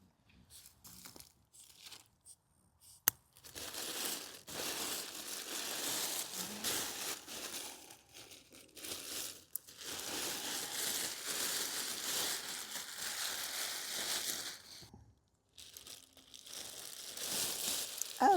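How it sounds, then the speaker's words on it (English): A plastic bag is pulled off a potted pagoda plant outdoors, giving bursts of close crinkling and rustling separated by short pauses. "let's take this bag off and peek."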